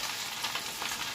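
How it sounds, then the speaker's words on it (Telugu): Urad dal vada frying in hot oil, a steady close sizzle and crackle that holds evenly throughout, with no talking. "అది వడ అనేది ఈజీగా పడిపోతుందండి ఆయిల్లో"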